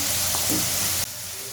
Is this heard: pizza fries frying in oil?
yes